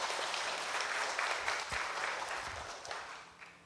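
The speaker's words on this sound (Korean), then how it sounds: "우리 하나님께 영광의 박수 올려드리겠습니다." A church congregation applauds during a worship service, fairly quiet and distant clapping that swells slightly then fades away toward the end.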